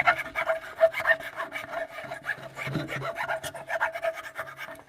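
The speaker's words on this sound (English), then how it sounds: "this is going to be tricky to get down to size because it's not going to let me chisel consistently through it" A chisel working through a knotty wooden through mortise, with steady, close scraping and rasping strokes repeating in a quick rhythm, with no talking.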